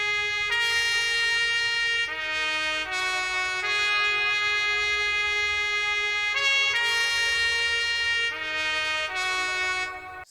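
A sustained trumpet melody with light reverb sits back in a hip-hop beat, long bright notes changing pitch every second or two over a soft low rhythmic bed, steady and fairly loud throughout.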